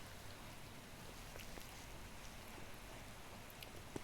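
Steady, soft rain falls in cold, wet weather in the Himachal hills, a faint even hiss with no voices, ending on one sharp close tap.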